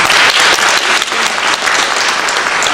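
Audience applause at a debate on Christianity and American politics, a loud, steady wash of many hands clapping that holds for a few seconds with no voices over it.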